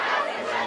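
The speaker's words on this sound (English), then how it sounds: "Crowd saying, "Who's your daddy?" in remarks to the Denver Nuggets over the Lakers." A packed stadium crowd at a high school football playoff game, Bingham against Syracuse, roars a loud chant, a dense wall of massed voices filling the short moment.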